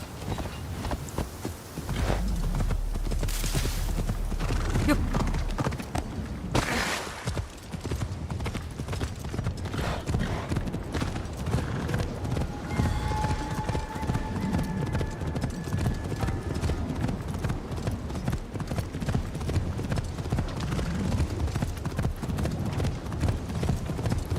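Horse scouts galloping in a video game, a steady rapid clip-clop of hooves that keeps going throughout, loud and close over a busy game soundscape with occasional whinny-like tones.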